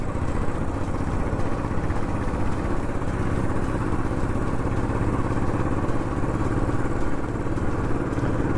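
Motorcycle engine running steadily while riding on a road trip from Delhi to Kasauli in Himachal Pradesh, a constant close drone with wind buffeting and no speech.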